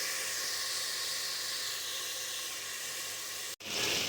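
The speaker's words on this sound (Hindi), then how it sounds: "तो चलें गोश्त डाल के हम इसको इतनी देर के लिए भून लेते हैं" Boneless beef pieces fry in a hot pot with a steady, dense sizzle and hiss that holds evenly, then cuts out abruptly before resuming.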